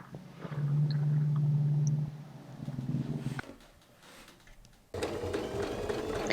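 A sewing machine stitches a dart in fabric for retro 1970s-style wide leg pants, running in a close steady whir, pausing briefly, then starting up again at speed.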